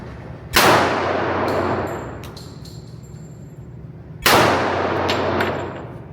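A Springfield TRP pistol fired two-handed at a range: two loud, close gunshots several seconds apart, each with a long ringing decay and faint metallic pings of brass falling after.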